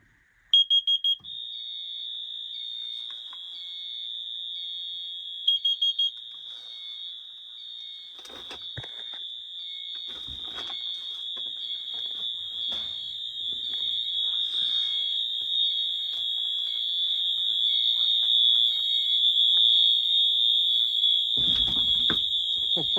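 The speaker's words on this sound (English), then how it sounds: "this is probably the scariest thing to me because the beeping itself is scary" A smoke alarm sounds a loud, piercing continuous tone after a few short beeps, with faint thumps and rustling underneath.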